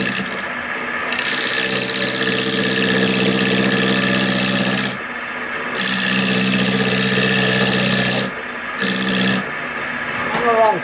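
A bowl gouge makes push cuts on a wood lathe, giving a steady, rough scraping hiss over the spinning workpiece. Several cuts come in long bursts separated by short pauses, close up, with someone speaking briefly.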